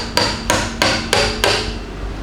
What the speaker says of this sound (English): What about eight swings of the hammer on that?